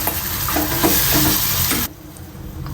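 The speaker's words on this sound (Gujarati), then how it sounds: "હવે એમાં જો પાસ્તા આપણે એડ કરી" Pasta stirred into a hot pan with pasta masala gives a loud, close sizzle with scraping stir strokes, then drops suddenly to a quieter hiss near the end; no voices.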